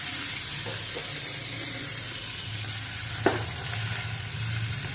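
Lemons stirred and fried in a pan for pickle, a steady close sizzle with occasional scraping of the spoon and one brief sharp clink, no speech.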